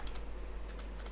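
Someone types code on a computer keyboard, producing a quick run of soft, close keystrokes over a steady low hum, with no talking.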